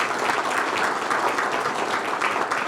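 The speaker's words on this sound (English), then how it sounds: "let's give our speakers a round of applause" Audience applause for the speakers at a community stroke-education health event, a dense, steady wash of clapping that holds at an even level for the full stretch.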